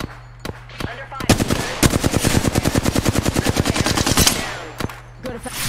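Rapid automatic gunfire in a first-person shooter video game, a sustained burst of sharp, loud, evenly spaced shots for about three seconds, bracketed by a few isolated single shots and faint game ambience.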